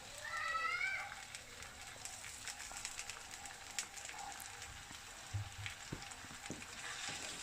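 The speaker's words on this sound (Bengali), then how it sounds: "দিয়ে আমি মশলাটাকে একটু কষিয়ে নিচ্ছি" Onion, ginger garlic paste and spices fry in a pan, a faint, steady sizzle with scattered crackles and occasional stirring scrapes, quiet and close.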